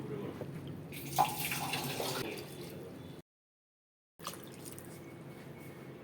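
Water pours steadily into a pressure cooker holding sweet corn for a few seconds, then a short silence, followed by a quieter trickle and faint background noise.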